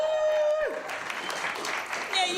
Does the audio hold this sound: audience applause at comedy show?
yes